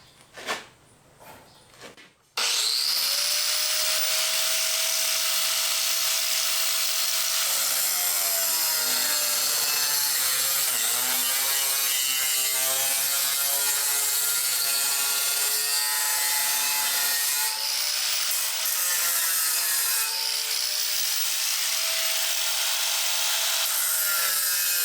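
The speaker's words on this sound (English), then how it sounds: "I'm going to take my grinder and just go in that groove just a little bit more" Angle grinder cutting deeper into a groove on a pedestal, starting after a few knocks with a loud continuous whining grind that rises and falls slightly in pitch as it bites, close with no talk.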